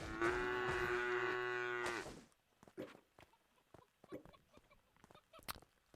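A cow in the game Craftopia gives one long, loud, close moo lasting about two seconds, followed by faint scattered clicks and small sounds.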